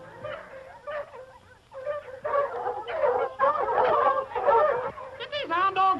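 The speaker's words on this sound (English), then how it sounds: "Get these hound dogs out of here." Hound dogs in a 1938 Western film yip, whine and bark in a busy, overlapping chorus, with rising yelps toward the end and some voices mixed in.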